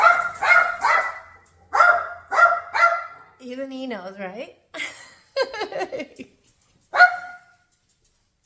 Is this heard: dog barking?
yes